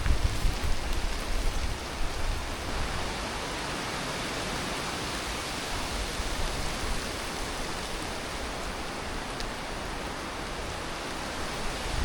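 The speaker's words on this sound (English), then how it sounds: "listen to the rain while I bring this down" Steady rain drums on a tarp shelter in the wilderness, a dense, continuous hiss of droplets that stays loud and even throughout with no voices.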